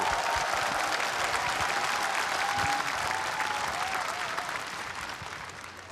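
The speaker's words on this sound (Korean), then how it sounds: "다시 한번 큰 박수 부탁드리겠습니다." A large audience at a memorial ceremony for the late President Roh Moo-hyun gives sustained, dense applause that fills the hall, steady and loud before slowly tapering, with faint tonal sounds over it.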